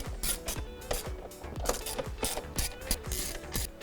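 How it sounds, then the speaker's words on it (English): A ratchet clicks in fast repeated bursts close by while removing 10 mm bolts from the trim panel over a BMW F30 335i N55 engine, with metallic ticks between strokes. "grab a 10 millimeter and remove all of these 10 millimeter bolts that surround this piece right here"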